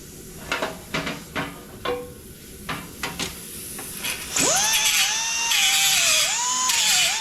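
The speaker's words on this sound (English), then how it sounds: "now I gotta deburr them" Deburring metal parts for a Jeepster pickup with a power tool, opening with a series of short scraping contacts, then a steady high-pitched whir that rises and dips as the tool runs.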